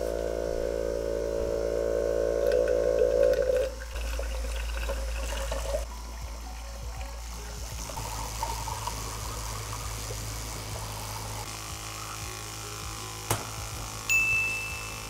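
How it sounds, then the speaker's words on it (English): A 12 volt water pump driven by a LiPo battery circulates water through a computer radiator cooling loop, giving a steady close hum with a trickling flow of liquid, alone and without talk. "I have this 12 volt water pump, which pumps water through this computer radiator."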